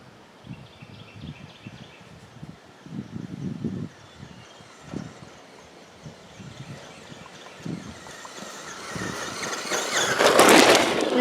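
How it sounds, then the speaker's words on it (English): A Traxxas Rustler XL-5 brushed 2wd RC truck races across grass at top speed, a low motor whir with bumpy rustling that swells and grows louder as it nears, ending in a close, noisy pass. "Traxxas Rustler XL-5 top speed in the grass."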